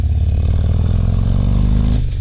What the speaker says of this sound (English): Wow, this is one of the loudest bikes that I've been on all day.